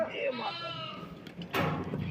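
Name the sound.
sheep bleating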